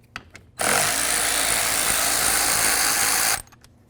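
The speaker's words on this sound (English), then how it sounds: "So let's remove these bolts right here" A power tool whirs in one loud, continuous burst of about three seconds while backing out 10 mm bolts on a Ford F350 side mirror, with faint clicks just before and after.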